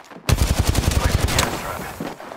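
Rapid video game gunfire erupts after a brief silence, a quick burst of roughly a dozen closely spaced shots, loud and close, then fading into a softer tail.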